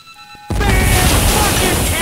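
Timed charges detonate in GTA 5: after a quiet moment with faint tones, a sudden loud blast erupts and leaves a sustained roaring rumble that fills the rest of the moment.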